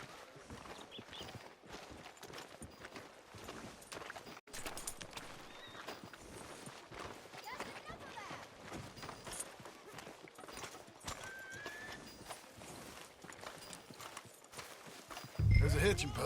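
Horse hooves clop along at a walking pace in Red Dead Redemption 2, in the town of Valentine, rhythmic and continuous, with ambient game sounds and a whinny as people talk over it.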